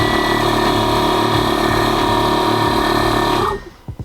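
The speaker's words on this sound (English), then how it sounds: "you're going to hear the compressors go off right now." Air suspension compressors on a car run with a loud, steady mechanical drone and buzz for several seconds, then shut off abruptly near the end.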